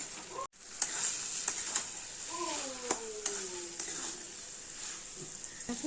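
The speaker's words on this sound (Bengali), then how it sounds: "লঙ্কা দিয়ে দেবো, নুন দেবো, মশলাটা কষাবো" Spices for chicken curry being sautéed with chili and salt, a faint steady sizzle with occasional clicks of a spoon against the pan and a brief muffled voice partway through.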